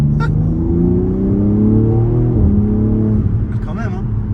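A new BMW M3 with roughly 700 km on it rumbles and revs, pitch climbing in smooth sweeps before easing off, loud and close, with people talking over the engine.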